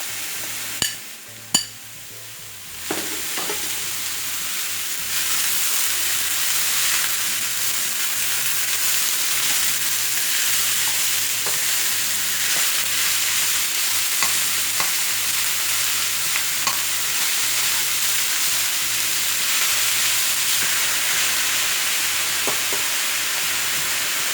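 Onion frying in a pan, a few sharp clacks at first, then a steady loud sizzle that holds close and constant, with faint ticks and pops scattered through it.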